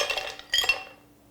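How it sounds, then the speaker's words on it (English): Pre-measured ice from a 16-ounce cup is tipped into a blender, a quick close clatter of clinking cubes in two bursts that fades within about a second. "You're going to add that to your blender."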